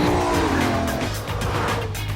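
A BMW launches hard on a test track, its engine roaring loudly and close while the tires squeal and skid as it pulls away.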